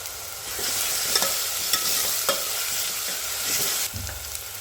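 Curry leaves crackling in hot oil for Kolhapuri kat vada, a dense bright sizzle throughout with a few sharp pops and spoon taps as the pan is stirred.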